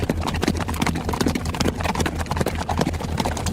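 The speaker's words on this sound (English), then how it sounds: "The jockeys are perched precariously on top of 5 tons of flailing mud, muscle, sweat, and hooves, hurtling down a track at nearly 40 miles per hour." Racehorses gallop down a track, hooves pounding in a fast, dense, continuous rhythm at close range with a steady loud roar underneath.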